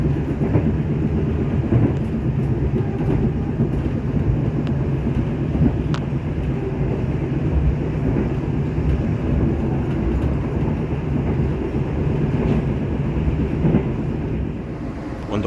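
Inside a moving executive-class passenger train car on the Cirebon to Semarang route, a steady loud low rumble of wheels and carriage with faint clicks, continuous throughout and no talking.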